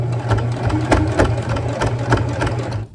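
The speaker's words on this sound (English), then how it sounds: "I do my back stitch and I'm done." A sewing machine back stitches a French seam, its needle thumping in a quick, steady mechanical rhythm with a low motor hum, close and loud, stopping abruptly at the end.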